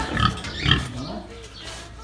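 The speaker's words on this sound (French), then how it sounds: "ça c'est cochon noir ou sanglier ça?" Black pig grunting close by, two deep snorting grunts in quick succession, then quieter breathy rumbles with faint background sounds.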